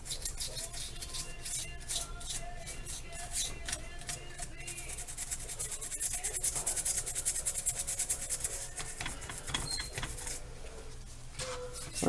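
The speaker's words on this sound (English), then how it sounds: "We're just going to scrub down on it a little bit like this." A brush scrubs a carburetor being cleaned with vinegar and Spic and Span, producing a quiet, steady scratchy rubbing in quick repeated strokes over a low background hum.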